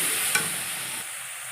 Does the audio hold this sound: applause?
no